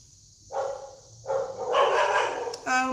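A dog barks indoors, a few loud, sharp barks close by in quick succession.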